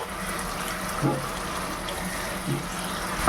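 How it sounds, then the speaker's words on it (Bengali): Water poured from a vessel into a pan of Bengali red fish curry made with pabda fish and potatoes, a steady gushing pour with a couple of brief splashes, close and moderately loud, no talking. "এর মধ্যে চলে যাবে এখন জল।"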